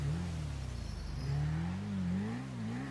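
A motorbike engine revs and accelerates in the video game Excitebike, a steady rising buzz that climbs in pitch, heard close and alone.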